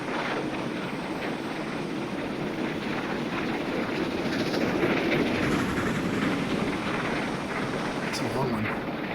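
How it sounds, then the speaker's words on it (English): A passing train in Train Simulator Classic on the Torbay route, a steady heavy rumble with rail clatter that swells and holds as the long train goes by. "Another train coming at us."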